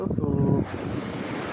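Sea waves wash at a beach with a steady broad roar and strong wind buffeting the microphone, close and loud, while someone speaks over the start.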